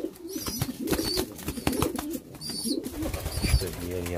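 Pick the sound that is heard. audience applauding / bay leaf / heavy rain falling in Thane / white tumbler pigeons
white tumbler pigeons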